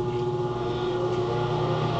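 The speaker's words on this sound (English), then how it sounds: "Sorry about the sound, but y'all already know about my exhaust" A car's loud aftermarket exhaust holds a steady, deep rumbling drone, with no clear rev swings and no talk over it.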